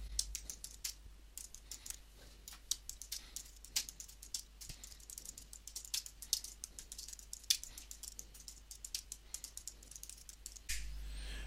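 A computer keyboard clatters with quick, uneven keystrokes as an assignment title is typed, crisp and close throughout with no talking.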